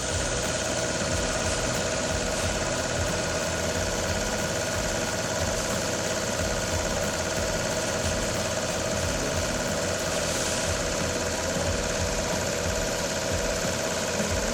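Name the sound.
heavy haul tractor truck engines idling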